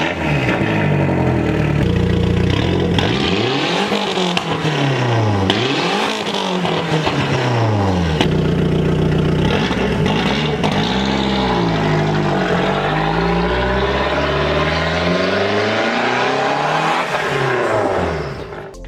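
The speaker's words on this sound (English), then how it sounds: "The 2003 Mark IV Golf GTI was the first GTI to feature a turbocharged engine." The 1.8-liter turbocharged inline-4 of a 2003 Volkswagen Golf GTI Mark IV in Need for Speed Underground 2 revs and climbs through repeated gear changes, loud and continuous, pitch sweeping up and dropping at each shift.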